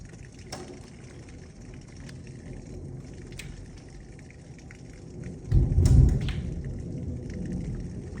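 Heavy rain pours steadily during a severe thunderstorm in Lubbock with hail and high winds, and a loud, close thunder rumble rolls in partway through before easing back under the downpour.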